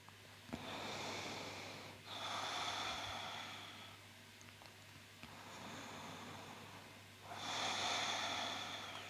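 Slow, deep yoga breaths, with a long hissing inhale and exhale repeated about three times close to the microphone in a quiet room, the last inhale the loudest.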